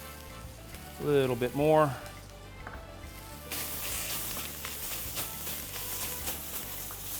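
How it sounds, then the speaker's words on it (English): Garlic sizzles in a hot pan, a steady frying hiss that grows brighter and louder in the second half, with someone talking briefly near the start. "Now we're really sauteing that garlic"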